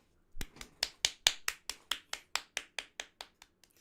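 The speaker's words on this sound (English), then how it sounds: "I don't know if clapping for myself is a cool thing to do." One person clapping hands alone, about fifteen crisp, close claps in a steady rhythm that gradually softens toward the end.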